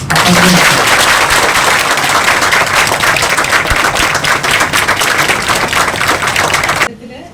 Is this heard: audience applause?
yes